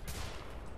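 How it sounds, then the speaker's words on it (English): A shotgun blast in Wolfenstein: The Old Blood, a single loud, broad burst of gunfire filling the brief moment up close. "I don't like that shotgun."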